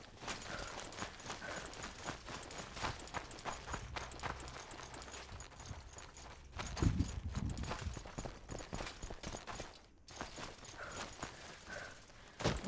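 Donkeys' hooves clip-clop steadily in the Morrowind video game, a continuous rhythmic patter of steps close by under a faint ambient bed, with a louder low thump near the middle.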